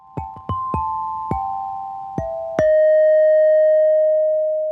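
Sampled alto bells from the Cinematique Instruments Ensemblia Métallique library strike six bright notes in an uneven melodic run, the final tone ringing out long and clear, loud and close with no voices.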